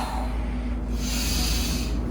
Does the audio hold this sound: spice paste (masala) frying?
no